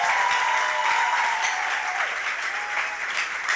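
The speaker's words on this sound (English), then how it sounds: "Kesia, coding mentors, members of the team, everywhere you are, please clap for them." An audience at a fellowship program launch event applauds for coding mentors and team members, a dense, steady wash of many hands clapping with a few voices faintly mixed in.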